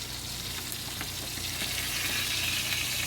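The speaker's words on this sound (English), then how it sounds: "the other fish is frying" Catfish frying in bacon grease, a steady close sizzle with faint crackling pops throughout, no voices.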